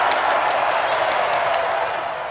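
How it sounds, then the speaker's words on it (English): A short burst of crowd applause and cheering plays at a steady, moderate level throughout, with many hands clapping together and no talking over it. "cue the virtual round of applause"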